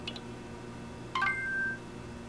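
A brief burst of short electronic tones from Google Glass when deleting an item, a quick ascending chirp of beeps standing out clearly over a quiet background hum.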